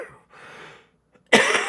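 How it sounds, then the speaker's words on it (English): A single cough bursts out loudly near the end, close to the microphone, after a quiet stretch with faint breathy noise. "let me mute while I cough"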